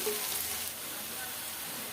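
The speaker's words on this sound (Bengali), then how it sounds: "পেঁয়াজ রসুন কাঁচামরিচ এগুলো ভাজা হয়ে গেছে" Steady sizzling of onion, garlic and green chili frying in a pan, a constant broadband hiss at moderate level with no talking.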